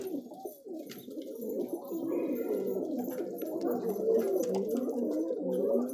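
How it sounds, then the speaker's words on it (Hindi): Many colourful pet pigeons coo together nearby, a continuous overlapping chorus of low throaty burbling calls that holds steady throughout. "खूब सारे कबूतर।"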